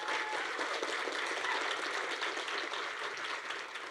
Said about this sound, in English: Round of applause for Maylene.